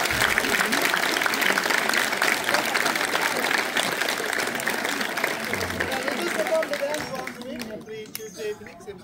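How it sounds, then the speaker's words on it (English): Loud audience applause for Kechak and fire dance performers in Ubud, Bali, a dense wash of clapping that fades toward the end, with crowd chatter mixed in. "Big applause again for the dancers and singers."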